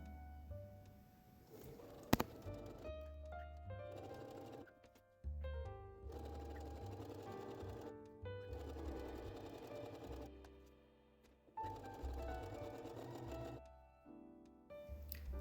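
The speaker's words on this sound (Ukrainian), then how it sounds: "Складаємо пополам і прошиваємо." A sewing machine stitches fabric for a quilted bag in several close bursts of rapid mechanical whirring and clatter, separated by short pauses. No voices are heard.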